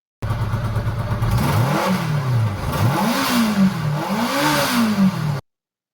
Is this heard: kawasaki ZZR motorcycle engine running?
yes